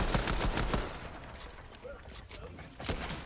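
Rapid gunfire rattles through a Fortnite match in Chapter 5 Season 4, with close bursts of shots early on and sparser cracks later against background game noise.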